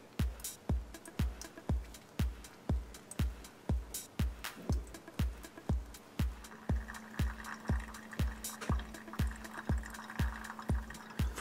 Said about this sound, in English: pick up your kettle and start your pour